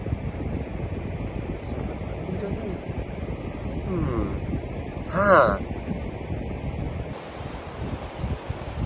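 Sea wind and waves around a small wooden boat out at sea: a steady blustery rush with gusts and a brief louder swell near the middle, while people talk faintly over it.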